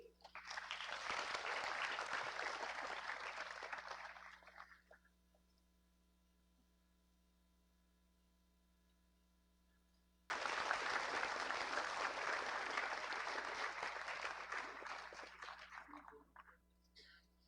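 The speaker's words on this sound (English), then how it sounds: "Let's give them another round of applause." Audience applause for a dance duo at a school initiative launch in Guyana, two bursts of dense clapping, the first fading out after several seconds, then a near-silent gap before a second loud round.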